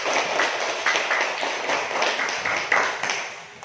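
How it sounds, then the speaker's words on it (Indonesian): Children clap together in a classroom, a rapid, uneven patter of many small hands that carries on steadily, with a few sharper accented claps rising out of the crowd. "Tepuk tangan untuk senang."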